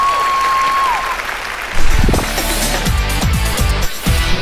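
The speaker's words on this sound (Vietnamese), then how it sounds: "Vỗ tay." A tone fades out, then a burst of applause breaks in and continues with scattered claps and cheering from a crowd, fairly loud and lively.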